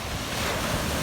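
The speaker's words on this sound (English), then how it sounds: "Pretty big waves today." Big ocean waves at a dive site, a steady, loud roar of surf mixed with heavy wind buffeting the microphone, continuous for about a second with no voices.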